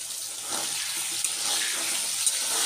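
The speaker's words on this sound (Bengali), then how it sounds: "মশলাটা একটু জল দিয়ে ভিজিয়ে রাখছি" Water poured onto dry spices to soak them, a continuous splashing gush throughout with no talking.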